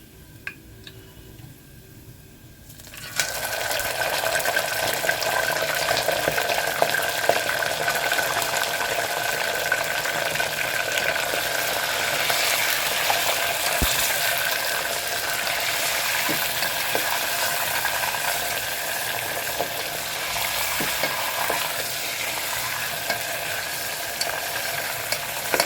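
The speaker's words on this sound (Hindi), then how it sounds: "गोश्त को थोड़ी देर भून लेंगे ताकि इसका पानी सारा जल जाए।" Mutton pieces sizzle in a pan with browned onions while being stirred, a quiet moment giving way to a sudden, sustained loud frying hiss with scraping stirs throughout.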